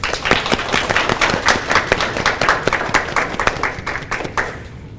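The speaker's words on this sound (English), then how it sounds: "Let's give her applause." An audience at a middle school speech contest applauding, close, brisk irregular clapping from a modest crowd that thins out toward the end.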